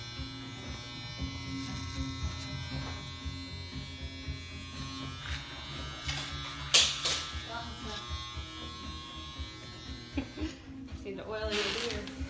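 Oster electric clippers buzz steadily and close up while trimming a beard, with the motor's hum running throughout as people talk over it.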